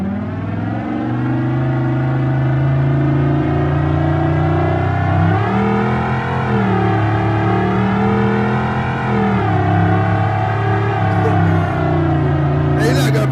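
Loud Dodge Coronet engine in BeamNG.drive drones continuously at close range, its pitch rising and falling with throttle changes, while someone talks over the roar.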